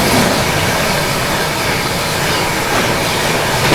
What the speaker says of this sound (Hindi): ICF और LHB ट्रेन का पैरेलल डिपार्चर यहाँ से।